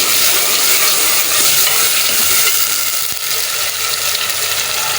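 Tomatoes hit a pan of browned onion, garlic and ginger and fry with a loud, continuous broad sizzle, steady throughout with a brief dip near the end.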